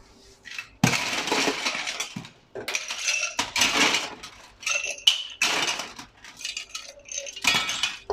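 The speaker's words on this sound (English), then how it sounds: "let's start off by filling this glass up with ice" Ice cubes tumble into a cocktail glass in several loud bursts of clinking and rattling, with short pauses between scoops and a few lighter chinks as the glass fills up.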